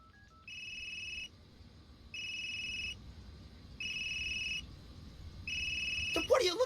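A telephone rings in a video game with four evenly spaced electronic trills, each about a second long, clear over a low background hum, followed by a brief burst of other game sound at the end.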